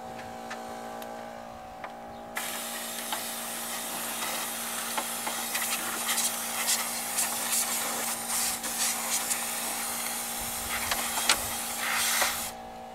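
Air blasts into the carburetor of a Toro Wheel Horse lawn tractor with a Briggs & Stratton flathead engine to clear out a mouse nest, a loud continuous hiss lasting about ten seconds over a steady background hum.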